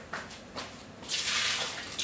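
Hot water from a microwaved mug is dumped out, giving a short broadband splash and pour that rises after a few faint drips and runs on for about a second, close and fairly quiet.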